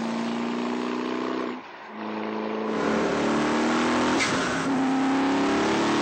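A Gumpert Apollo sports car drives under load, its engine droning and rising in pitch, briefly easing off around a gear change before pulling hard again, a steady loud interior roar.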